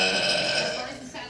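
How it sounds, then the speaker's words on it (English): A girl lets out a long, loud, gross burp at a local TV morning show studio, one sustained rasping belch held close to the mic with no talk over it. "Check it out as she burps."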